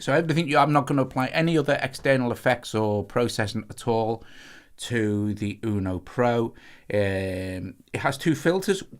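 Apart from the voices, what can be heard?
No everyday noise stands out behind the speech.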